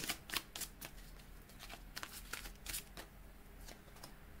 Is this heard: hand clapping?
no